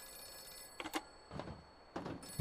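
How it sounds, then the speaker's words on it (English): Telephone ringing in the Rem Survival video game, a few faint repeated ring bursts with pauses between them, heard quietly and alone. "What the fuck is this ringing?"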